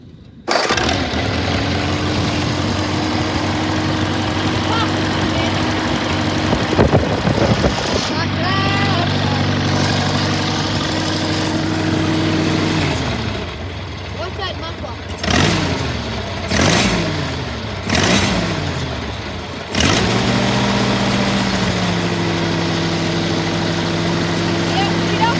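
An Allis-Chalmers G tractor engine starts and settles into a loud, steady idle close to the listener, then it is revved up and down several times before it falls back to idling.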